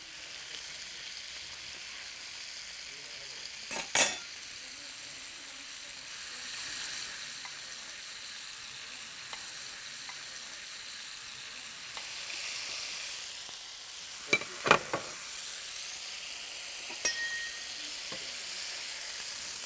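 Small lamb tenderloins sizzling in a frying pan alongside other meat, a steady soft hiss with a few sharp clicks and clatters of utensils against the pan, no talking.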